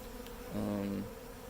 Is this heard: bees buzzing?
yes